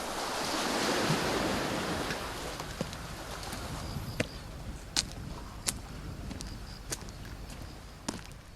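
Sea waves wash and surge steadily at a harbor on Jindo, with a fuller swell early on and scattered sharp knocks and splashes later, under light wind noise.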